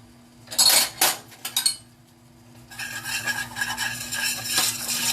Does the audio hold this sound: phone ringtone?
no